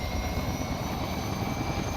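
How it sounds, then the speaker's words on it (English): A helicopter in the video game Arma 3 flies low, giving a steady loud rotor and engine drone with a constant whine, heard alone without speech. "I would be scared of flying this chopper within a few clicks of that"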